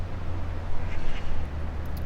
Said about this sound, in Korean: 새소리가 굉장히 많이 나죠?